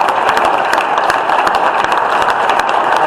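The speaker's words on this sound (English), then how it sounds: "So if we could give them a round of applause." A crowd at a general meeting applauds with rapid, dense clapping, loud and steady throughout, with sharp individual claps standing out.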